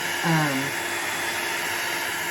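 Hair dryer blowing steadily to dry alcohol ink, a constant broadband whoosh filling the clip, with a brief voice early on.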